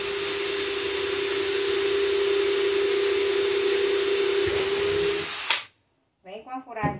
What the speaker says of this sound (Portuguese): E vem na furadeira.